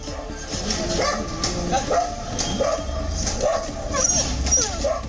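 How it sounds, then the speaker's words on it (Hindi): Street dogs bark outside a housing society in Noida, repeated yips and whimpering barks mixed with a voice over a constant rumble of outdoor noise. "प्रतीक लॉरेंस सोसाइटी के बाहर भौंकते कुत्ते नजर आने लगे"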